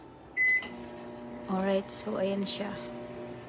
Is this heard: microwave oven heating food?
yes